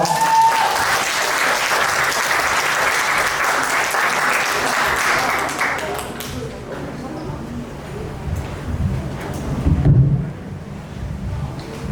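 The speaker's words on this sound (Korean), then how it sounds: "박수로 맞아주세요" Audience applause at a 2022 school information session, broad clapping from a crowd for about six seconds before fading into room noise and faint voices.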